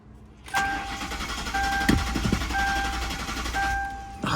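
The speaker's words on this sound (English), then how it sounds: "that engine does not sound bad" A 1988 Camaro IROC-Z engine cranks in repeated churning bursts, with a faint steady tone running beneath, loud and close, without fully catching.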